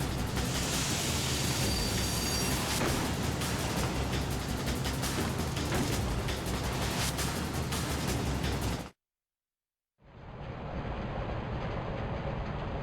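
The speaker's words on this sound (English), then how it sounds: "and the train is going away." Loud, steady rumble of a train in the video game Covert Ops: Nuclear Dawn, filling about nine seconds alone before a sudden second of silence, then a thinner, higher hiss resumes.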